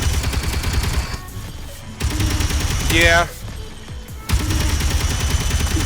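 A jump drive critical explosion in the Space Engineers video game: dense rattling bursts of blasts and crackling detonations, a brief rising whine in the middle, with a short spoken word heard over it.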